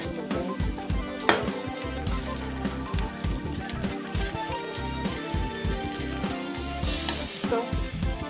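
Avalakki (flattened rice) with coriander fries in a pan, a dense sizzle overlaid with continual stirring scrapes and rustles in an uneven rhythm, close and fairly loud throughout.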